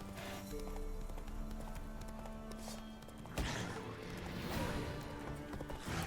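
Roach the horse gallops in The Witcher 3, rhythmic clip-clop hoofbeats pounding steadily at close range alongside in-game ambience.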